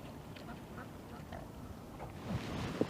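Ducks quack faintly from some distance along the River Trent on an urban stretch of deep water, a few scattered calls over a steady outdoor background, with slightly louder quacks toward the end.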